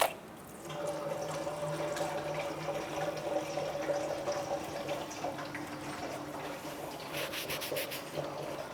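Engine oil draining from the oil pan of a 2010–2022 Toyota 4Runner, a steady, continuous liquid trickle with faint rubbing textures, moderately close, alone and without talk.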